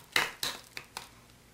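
Egg and rice worked into pork by hand for Chinese stuffed peppers: four short, wet squelching strokes, close and fairly quiet, each fading quickly, with no talking.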